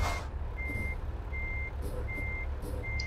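A truck in a trucking video game reverses with a steady series of evenly spaced high beeps, about one every three-quarters of a second, over a low engine rumble.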